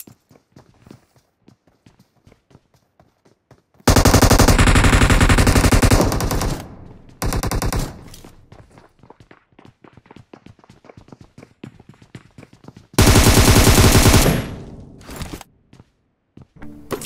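Bursts of automatic gunfire in the mobile battle royale game BGMI, two loud sustained volleys a few seconds each with a shorter burst between, over faint in-game footsteps and ambient noise.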